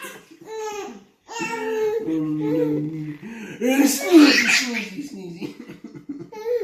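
A man's sneeze bursts out once midway, surrounded by a baby's squealing laughter and babble before and after, with an adult voice speaking softly nearby.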